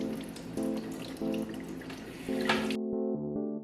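Running tap water splashes steadily over dyed cosplay fabric being rinsed in a sink, a close, fairly loud wash of flow that cuts off near the end, leaving a low hum.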